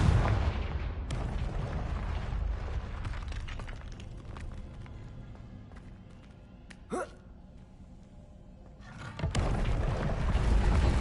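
Spell-blast explosion from the Hogwarts Legacy video game, a heavy booming roar that fades slowly, with a short sharp crack midway before another loud burst rises at the end.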